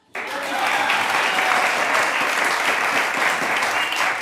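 Applause bursts in abruptly from a large audience and holds as a loud, full, continuous roar of clapping, close and even, with a faint voice buried underneath.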